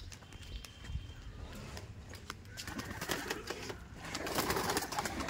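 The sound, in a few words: aggressive pigeon cooing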